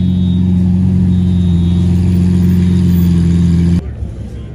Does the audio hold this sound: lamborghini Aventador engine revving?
yes